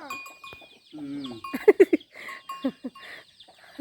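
A chicken gives a short series of clucks and squawks, several quick loud bursts in a row, close by with faint background noise.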